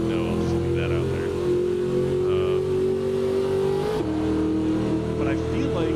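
A Chevrolet Corvette C6 ZR1 in a racing game on the Daytona track, its engine droning loud and steady with a rising pitch, then dipping sharply as it shifts before climbing again.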